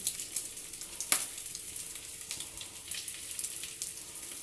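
Chicken shahi kababs fry in a pan with a soft, steady sizzle, hissing crackle and faint spatter throughout, with one sharper pop or clink near the start and no talking.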